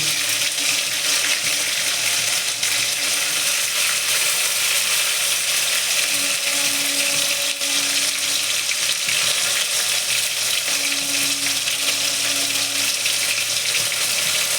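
Lote (Bombay duck) fish pakoras frying in hot oil, a continuous crackling sizzle with faint sputters and pops, close and steady with no voices.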